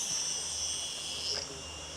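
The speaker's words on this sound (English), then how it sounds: "the crickets creaking are really, really loud" Crickets chirp in a steady, dense high-pitched drone outdoors in Al Hoceima, Morocco, beside old benches and a dry former water feature, continuous and fairly loud throughout with faint background sounds.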